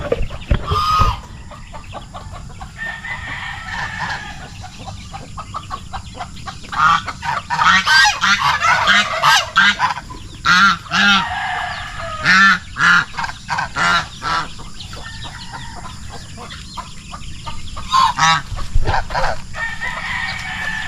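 A flock of farm geese honks loudly and repeatedly while chickens crow and cluck nearby as poultry, geese and turkeys are fed feed scattered on the ground, the calls coming in irregular bursts close by.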